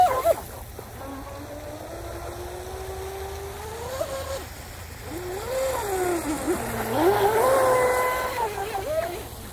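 A 19-inch RC tri-hull boat's 4000kv electric motor whines steadily, its pitch sliding up and down as the throttle changes, fairly loud and close throughout.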